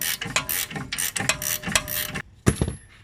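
Ratchet clicking in quick bursts while tightening bolts on the front suspension of a 1974 Chevrolet Monte Carlo, several close, sharp runs of ratcheting separated by brief pauses, then a final metallic clank.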